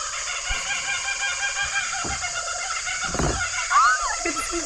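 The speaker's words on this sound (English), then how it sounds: "that's a kookaburra" A kookaburra calls outdoors with a short, raucous, squawking burst near the end, standing above a steady background hiss.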